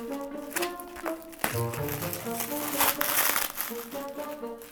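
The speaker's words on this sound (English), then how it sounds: "that legitimately took about 10 minutes to unwrap all of that plastic" Crinkly plastic packaging is peeled and unwrapped close by in bursts of crackling and rustling, with a few light taps and a person talking between the crinkles.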